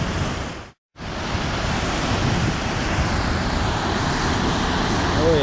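Roaring waterfall in Colombia, heard up close amid heavy spray as a dense, steady rush that cuts out briefly near the start and then continues loudly throughout.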